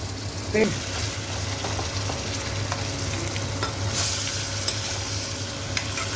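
Ginger garlic paste frying in a pan for pav bhaji, with a steady close sizzle, occasional stirring scrapes and a low hum underneath.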